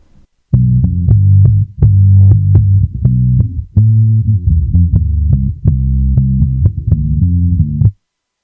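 Muffled, bass-heavy music isolated to the low-mid band between 60.8 and 340.6 hertz, highs cut away, thumping and droning steadily for several seconds before stopping abruptly.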